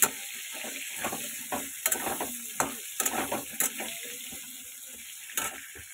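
Vegetarian food of soybean, paneer and potato cooks on a home stove for a Manasa puja meal, with a soft sizzle, scattered clinks and scraping stirs of a utensil in the pot, no talking.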